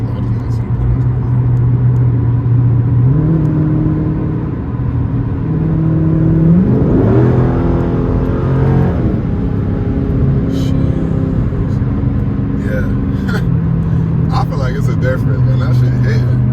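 A car with 24,000 miles on it accelerates hard, its engine droning loudly from inside the cabin, pitch climbing steadily then dropping briefly with each gear change before rising again, with a voice speaking over it.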